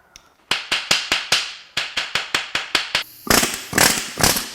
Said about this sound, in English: Couple good smacks with the old hammer.